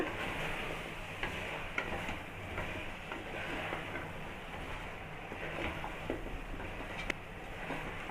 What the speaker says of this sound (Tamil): சேர்த்துட்டு நல்லா கிளறிடுங்க